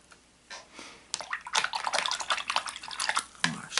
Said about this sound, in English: Wash that right out of my brush.